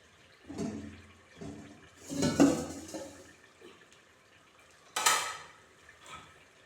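Cooked, drained rice for mandi is tipped into the pot of cooked meat: a few scraping, clattering strokes of a metal utensil against the pot, with soft wet thumps between them and sharper clinks later, no talking.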